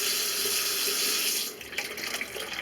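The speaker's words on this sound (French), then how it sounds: "vous allez voir l'eau couler" Water runs from a tap into a bathroom washbasin and down its drain after the drain is cleared with a plumber's snake; a steady, close rush that shifts to a lighter, more broken trickle partway through.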